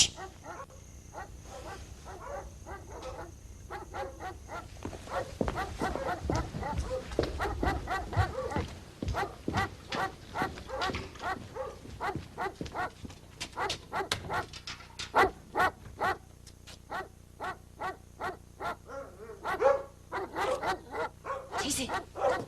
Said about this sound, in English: Only the dog's barking.